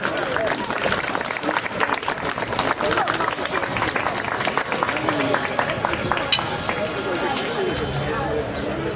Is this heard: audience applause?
yes